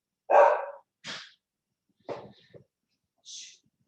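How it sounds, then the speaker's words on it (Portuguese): A dog at home gives a few short, breathy barks and huffs spaced across a few seconds, fairly close and isolated against silence, with no talk. "também tem cachorro aqui em casa, viu, Penelas?"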